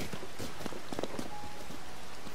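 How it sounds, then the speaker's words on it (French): Steady rain falls in Zelda: Tears of the Kingdom, a dense, even patter of drops on the ground that continues throughout. "Il pleut."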